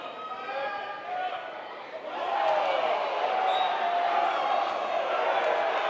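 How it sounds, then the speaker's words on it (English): A high school basketball crowd in a gym surges into loud, building jeering and chatter after an air ball, the noise swelling midway and holding as a dense roar. "if they see an air ball, they're going to talk their trash"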